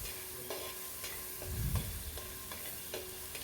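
A paste of crushed garlic, ginger and green chili fries in a pan, giving a steady soft sizzle with rhythmic scraping stirs about every half second and a brief louder clatter midway.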